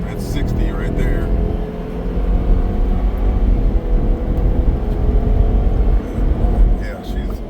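A 2024 Ford Super Duty truck with the 7.3 Godzilla engine and 10-speed transmission accelerating, heard from inside the cab as a steady low engine drone and road rumble, with people talking over it.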